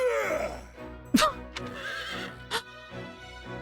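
A horse in the Fire Emblem Warriors Three Hopes video game gives a sharp, high neigh followed by shorter whinnies and snorts, close and fairly loud over a soft sustained musical background.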